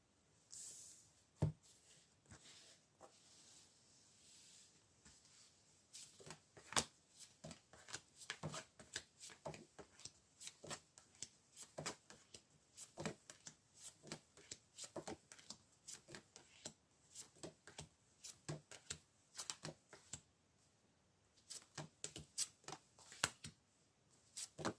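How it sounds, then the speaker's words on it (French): Tarot cards being shuffled by hand, a long run of soft, rapid riffling and flicking bursts that come in irregular clusters, quiet and close with brief pauses between handfuls. "Donc on va maintenant remélanger les cartes pour essayer d'avoir des informations justement sur la personne du passé ici"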